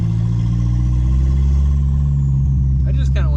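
Miniature vehicle with a turbocharged Hemi engine, a loud steady low engine drone running close by; a voice briefly sounds near the end.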